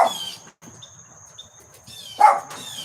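Several dogs on a porch and in a yard bark in short sharp bursts at the start and near the end, fairly faint and separated by quiet gaps with a thin high whine between them.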